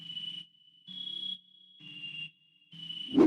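Sad trap melody built in FL Studio with native plugins, heavy reverb and panning: a sustained synth tone in four phrases with pauses between them, ending on a louder low hit.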